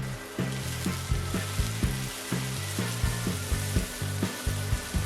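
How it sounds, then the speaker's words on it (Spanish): Onion sautéing with a pinch of salt in a generous splash of olive oil in a frying pan: a steady close sizzle with regular scraping knocks from stirring, about two per second. "Ponemos un buen chorro de aceite de oliva en una sartén y rehogamos la cebolla con una pizca de sal"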